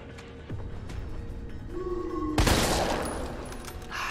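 A Hawk magnum fired in the video game Resident Evil 3 Remake, a single heavy, loud blast at close range that rings out and decays, preceded by quieter thuds and a brief whirring tone.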